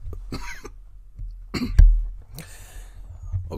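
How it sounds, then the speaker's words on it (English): A person with a dry, irritated throat gives several short dry coughs and throat-clearing bursts, close and isolated, separated by brief quiet gaps. "It's not really a cough, sort of a dry throat"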